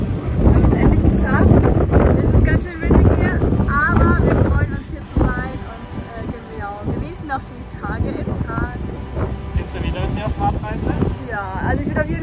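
Strong gusting wind buffets the microphone in Prague at the end of a long bicycle tour, a loud continuous roar rising and falling, with people talking through it.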